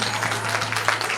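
An audience claps during a stage play of Bahubali in Chennai, a dense, even patter of many hands at moderate loudness over a low steady hum, lasting about a second.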